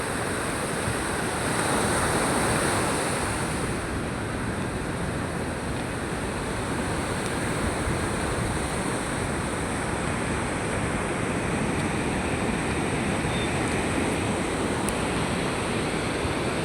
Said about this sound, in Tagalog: Ang lalaki ng alon mga kapalangga to.